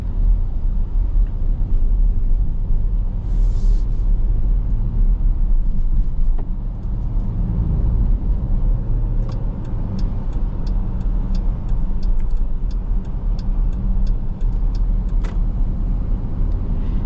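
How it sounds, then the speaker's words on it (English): A 2025 Dodge Durango R/T V8 engine hums steadily while driving, a constant low rumble with road noise running through the whole stretch, with no talking over it. "V8's got a nice tone to it."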